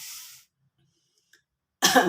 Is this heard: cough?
yes